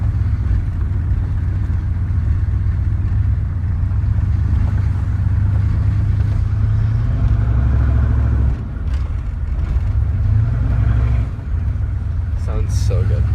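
A 1993 Chevy 1500 turbo diesel pickup engine runs steadily at idle with a deep, rumbling low end, close and loud. Its level dips briefly twice.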